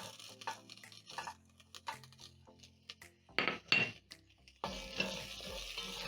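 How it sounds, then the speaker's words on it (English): Carrots tumble into a pot of golden-browned onions, garlic and ginger for Kenyan githeri, giving a few bright clattering bursts and clinks of utensils and cookware, with brief stirring scrapes between quieter pauses. "you're going to add in some carrots to your pot"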